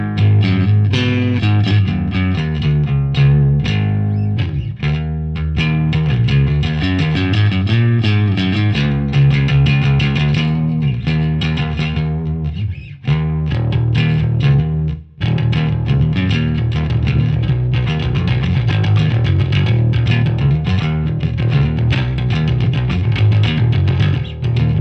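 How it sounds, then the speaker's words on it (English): A bass guitar plays through a Sovtek Bassov Blues Boy bass amp, giving loud, continuous, slightly distorted low notes in a steady groove with a brief break midway and no talking. "that's still a reliable bass amp"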